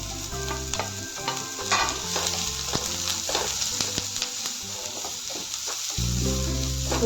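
Onion, ginger and green chilli sauté in a pan for Kerala-style tapioca uppumavu, giving a steady close sizzle with repeated stirring scrapes, continuous and fairly loud throughout, with no talking.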